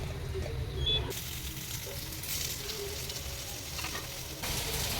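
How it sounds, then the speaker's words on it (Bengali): Boiled potatoes fry in hot oil, sizzling steadily and close up with occasional stirring, the hiss louder and brighter after the first second. "এখন আমার তেলটা গরম হয়ে গেছে, আর আমি এখন ছেড়ে দেবো আগের থেকে যেটা আমি সিদ্ধ করে রেখেছিলাম আলু।"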